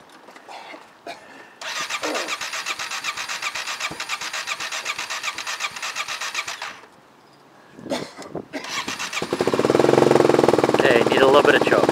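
Kawasaki KLX250SF motorcycle with a Big Gun exhaust and Uniflow intake being started without choke: a broken first run of engine noise, a pause, then a louder, steadier running engine, with people talking at times.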